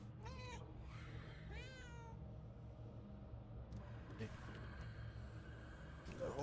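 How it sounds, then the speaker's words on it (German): Cat meowing in the video game Murdered: Soul Suspect, a few short rising meows near the start over a steady low ambient hum and engine-like rumble, with speech. "Kann sogar miauen."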